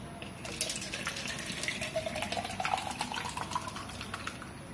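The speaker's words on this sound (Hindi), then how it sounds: "काटने के बाद इसमें भी आप पानी भर लें" Water from a bottle or tap splashes steadily into a cut-open plastic bottle, a continuous close gushing fill lasting several seconds with no talking.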